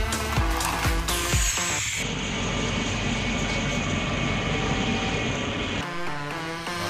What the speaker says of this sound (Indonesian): Ayo teman-teman, kita take off helikopternya.